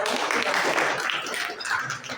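Audience at a Hindi Diwas celebration applauds to welcome a student poet, a steady wash of clapping lasting a couple of seconds with some voices mixed in.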